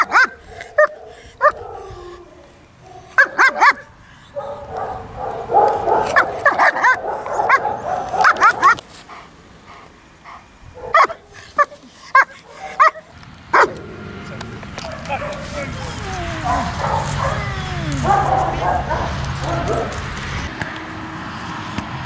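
German Shepherd barks, yips and whimpers excitedly on seeing its owners, loud close barks in bursts followed by high whining cries, with people talking nearby.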